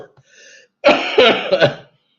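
A short throat-clearing sound followed by a burst of harsh coughs, close and fairly loud.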